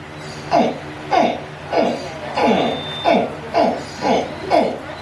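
A voice imitates a deep alligator grunt, repeating it eight times in a steady rhythm, each a short, throaty, descending burst, loud and close.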